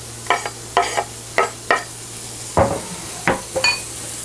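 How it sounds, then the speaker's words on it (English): Chopped red pepper being sauteed in a pan, with a series of sharp utensil scrapes and clacks in an uneven rhythm over a faint sizzle, close and without speech. "When we're sauteing, probably be about 3 to 5 minutes."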